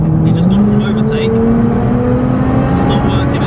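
Steady close engine drone and road noise inside a Nissan GTR as a blacked-out Audi A3 overtakes, with a rising engine tone sweeping upward beneath a voice.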